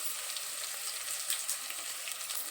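Oil frying in a pan gives a soft, even, hissing sizzle that holds steady throughout with no other sounds.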